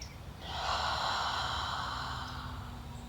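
A single deep, slow inhale through the nose during a yoga stretch, a breathy rushing sound that swells and then trails off, close and fairly soft.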